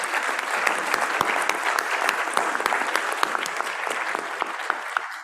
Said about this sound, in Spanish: un aplauso fuerte para nuestros invitados